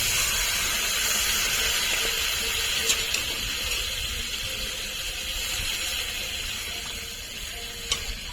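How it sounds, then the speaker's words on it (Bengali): Water poured into a pan of frying stingray fish curry masala, giving a steady loud sizzling hiss that lasts throughout, with faint crackles and no speech. "এবার জল দিয়ে দেবো।"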